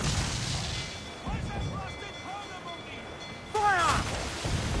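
Ship cannons fire in the pirate video game Assassin's Creed 4 Black Flag, with a heavy booming blast at the start and another loud volley near the end, separated by shouting crew voices over a constant rumbling battle din.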